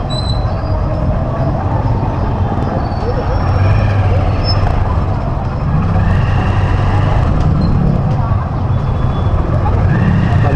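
A motorized tricycle drives through Lopez, Quezon in hot weather, its engine a loud, steady rumble with rising and falling rattles and road noise throughout.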